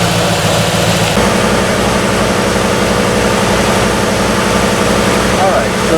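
A GM car engine with an ESC fault, code 43, idles steadily nearby while warming up, with a low, even rumble and faint mechanical ticking, while a person talks over it.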